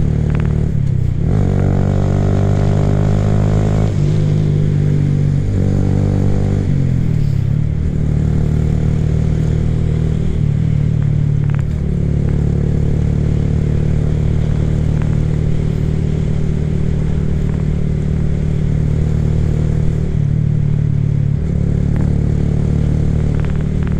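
Honda Grom motorcycle ridden on a road, its small engine revving up and down through the throttle with rising and falling pitch, then settling into a steady loud rumble, close and continuous.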